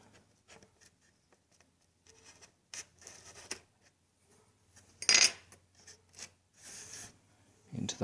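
Foam fuselage of a Bixler 2 model plane being cut to open a section for a servo, heard as scattered close scraping and snipping strokes, with a sharper crunch midway and soft rustling between cuts.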